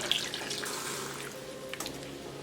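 Water runs steadily from a tap, a soft continuous hiss and splash with faint clinks, close and fairly quiet.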